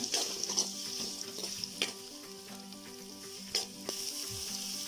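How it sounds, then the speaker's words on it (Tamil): Onions and curry leaves fry in hot oil for uggani, a close, steady sizzle with bursts of crackle and occasional spoon knocks against the pan. "இப்போ நான் இதில் வெங்காயமும் கருவேப்பிலையும் சேர்த்துக்கிறேன்"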